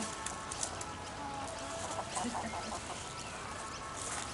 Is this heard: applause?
no